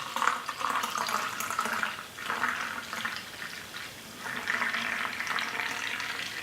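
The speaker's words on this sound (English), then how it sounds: "So I'm going to give it quite an aggressive pour." Oak aged ale gushes hard into a glass, a splashing, foaming pour that surges, briefly eases around the middle, then swells again, heard close and alone.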